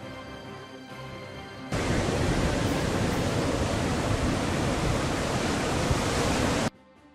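Rough sea driven by Cyclone Montha along the Karnataka coast, with gale-force wind: a continuous loud roar of surf and wind that bursts in suddenly, holds steady for about five seconds, then cuts off abruptly, with no talking.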